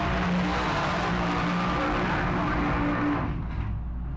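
A supercharged blown big block engine car pulling up at a car cruise night, a loud, steady rumbling roar close by that holds for several seconds before easing off slightly.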